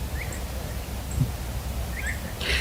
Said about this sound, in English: These little tiny chirps.